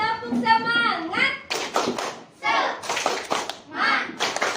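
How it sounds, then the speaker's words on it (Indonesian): A class of schoolchildren standing to do a rhythmic spirit clap, bursts of unison clapping alternating with a teacher's voice and children chanting along. "kita tepuk semangat dulu ya"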